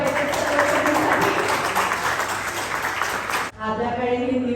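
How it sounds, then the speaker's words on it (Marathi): An audience at a tenth-anniversary ceremony claps in a dense, sustained burst of applause for about three and a half seconds before the sound cuts off abruptly. "जोरदार टाळ्या झाल्या पाहिजेत."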